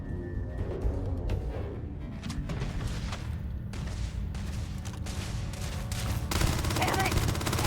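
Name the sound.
gunfire in the video game Starfield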